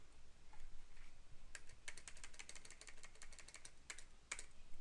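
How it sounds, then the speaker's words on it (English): Keys clacking on a computer keyboard as a chart title is entered in Excel 2007, a quick irregular run of close, crisp taps with short pauses between bursts. "I'm just going to type in my title."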